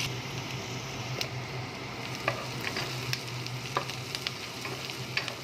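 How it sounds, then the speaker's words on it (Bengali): Chopped onion fries in a pan with a steady, close sizzle, broken by scattered light pops and occasional stirring scrapes. "পেঁয়াজটাকে একটু ভালো করে লাল লাল করে ভেজে নেব।"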